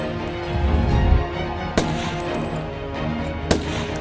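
Sharp sniper shots in a war film as a woman picks off three terrorists guarding a camp, two or three distinct cracks spaced apart over a low rumbling background, with no talk.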